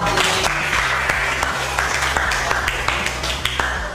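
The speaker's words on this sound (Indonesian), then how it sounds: "Tepuk tangan." A group claps at a school event, with a dense burst of hand claps running throughout and a few sharper individual claps standing out.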